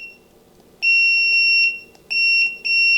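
A digital kitchen timer alarm set to loud volume, sounding as bursts of sharp, high electronic beeps, one long run followed by two shorter ones, close and piercing over a quiet background.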